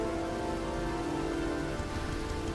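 Steady rain falling in the video game Heavy Rain, a dense, continuous hiss and patter that stays even and close throughout, with no voices.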